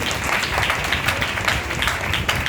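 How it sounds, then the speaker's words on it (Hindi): A church congregation applauds Jalal with a full, steady burst of clapping from many hands, dense and fairly loud throughout. "जलाल के लिए जोरदार तालियां बजाएं।"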